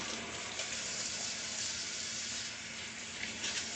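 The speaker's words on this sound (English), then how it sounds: "I'm going to wash my hands. Soap in water." Tap water runs steadily and close by, a constant splashing rush into a sink with no voices.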